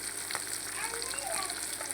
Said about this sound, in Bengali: তেলটা গরম হয়ে গেছে আমার। এখন আমি মাছ ভাজা শুরু করে দিব।